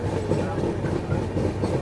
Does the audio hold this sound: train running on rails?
yes